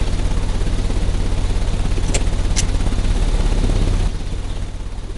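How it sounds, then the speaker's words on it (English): A car engine in the Sherlock Holmes: Crimes and Punishments video game runs loud and steady with a dense low rumble, two brief sharp clicks partway through, then drops slightly in level. "The engine has started."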